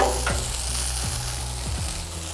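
Sautéed onions being stirred into a burger mixture, a steady wet sizzle with a few soft scraping strokes at a regular pace, close and moderately loud with no voices.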